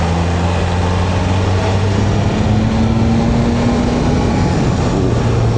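A 2025 BMW S1000RR motorcycle rides along a road, its engine droning steadily and loudly with rising and falling tones, heavy wind noise throughout, no talk.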